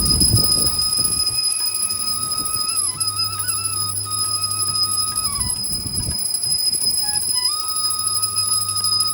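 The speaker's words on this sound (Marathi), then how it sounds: "घंटी वाजवा." A small ritual bell rung during Ganpati puja at home, its sustained metallic ringing tones carrying steadily through the clip over a background of household murmur.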